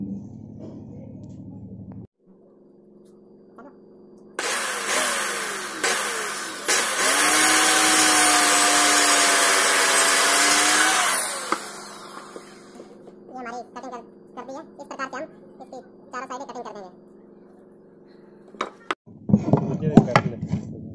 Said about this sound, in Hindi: तो दोस्तों अब हम इसकी हैंड कटर के द्वारा कटिंग करेंगे